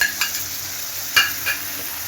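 Tomato sizzles as it is added to a hot pan of gourd and jackfruit mash base with green chili paste, with a couple of brief stirring scrapes over a steady low frying hiss.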